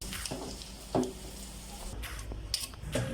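A spicy crab mixture is poured into a pan of cooked onions, tomatoes and curry leaves and stirred: a few soft spoon-on-pan clinks and scrapes over a faint sizzle, close and quiet.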